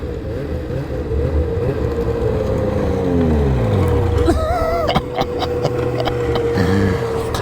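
An 850 snowmobile engine running with a loud, steady drone that rises and falls in pitch as the sled rides out of town, with a brief voice heard over it.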